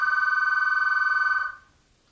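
A telephone rings with a steady electronic trilling tone that holds for about a second and a half and then cuts off with a brief fading tail, loud and close, with no voices.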